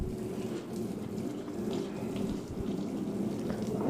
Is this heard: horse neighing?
no